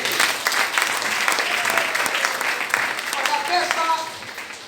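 A church congregation applauds in a steady, dense wash of clapping that carries on throughout, with a voice speaking over it.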